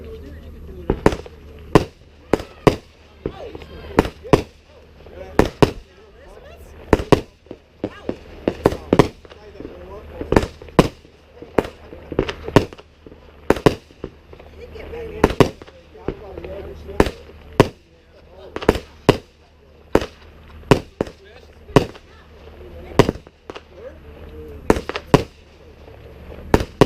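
Fourth of July fireworks and firecrackers in Minot, North Dakota: sharp, irregular bangs and crackling pops, some near and loud, others farther off, repeating throughout with faint voices between bursts.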